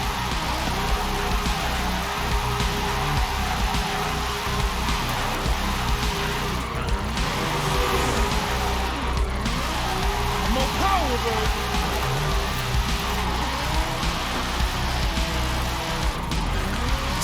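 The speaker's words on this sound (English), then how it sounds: "Side note, I'm drifting in 6th gear right now, which is nuts." A game car in Forza Horizon 5 drifts in 6th gear with a steady, high-revving engine drone and faint tire noise, while a person talks throughout.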